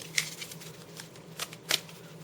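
A deck of Uncharter board game cards is riffled and shuffled in a few quiet, crisp bursts close up, with soft handling noise between them.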